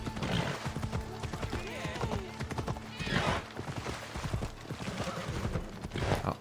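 Horse hooves clip-clop steadily at a trot in the video game Assassin's Creed Odyssey on PC, close and rhythmic, with brief whinnies and game ambience underneath.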